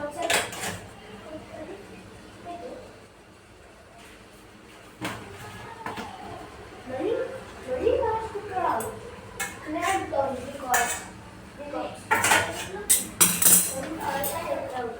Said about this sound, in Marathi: तर बघा इझिली छान असा मॅश होत आहे